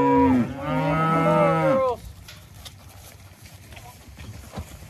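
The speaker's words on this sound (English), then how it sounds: "these cows are up here and they are ready to get in here and eat" A cow moos loudly and close by with a long, wavering harmonic call in a rainy pasture, then the sound drops to a soft outdoor background with faint hoof-like knocks.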